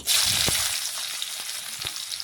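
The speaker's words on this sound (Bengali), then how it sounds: "ভাজা হয়ে গেলেই আমি কিছুটা পেঁয়াজ কুচি দিয়ে দিচ্ছি" Chopped onion dropped into hot oil with bay leaf and cumin, frying with a loud, steady close sizzle and a few soft stirring knocks.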